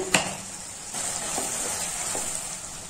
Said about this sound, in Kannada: ಮೂರು ಟೊಮೊಟೊನ ಸಣ್ಣದಾಗಿ ಹಚ್ಕೊಂಡಿದ್ದೀನಿ ಅದನ್ನು ಹಾಕ್ತಾ ಇದ್ದೀನಿ ಇದನ್ನು ಒಂದು ಎರಡು ನಿಮಿಷ ಹೀಗೆ ಫ್ರೈ ಮಾಡೋಣ